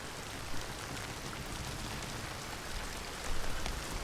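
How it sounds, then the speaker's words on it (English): Heavy rain falls in a steady, dense hiss of drops striking surfaces, continuous and fairly close, with a couple of slightly louder gusts. "Heavy rain."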